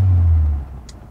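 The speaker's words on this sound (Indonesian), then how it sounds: "suara mesin terdengar dengan jelas ke dalam mobil, karena mesinnya pas di belakang" Rear-mounted engine of a 1974 Volkswagen Beetle VW1303 rumbling low from inside the cabin with the windows closed, strong at first and then easing off and fading, with no talk.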